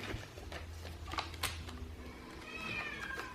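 A house cat meows several times indoors, close and clear, with short rising calls spread across a few seconds over quiet room noise.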